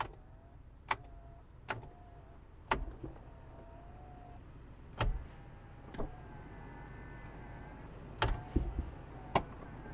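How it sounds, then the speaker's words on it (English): Small stepper motors in the push-button dashboard controls of a 1989 Honda Accord Aerodeck whir and tick in short separate bursts, with several sharp clicks spread through a quiet cabin with the ignition on. "press the buttons and little stepper motors, we might even be able to hear them if I put the ignition on, kick in"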